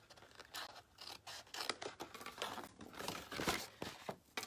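Scissors cut paper strips at an angle in quiet, close snips, one after another with soft crinkling and handling noise between the cuts, and nobody talks.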